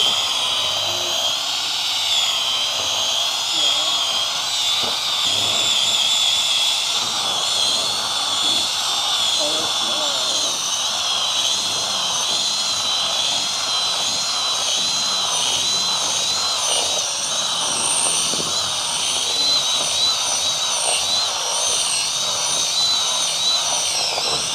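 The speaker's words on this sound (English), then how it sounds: "Burn out this little drill." A high-pitched power drill whines steadily and loudly throughout, with faint voices underneath, during countertop epoxy testing.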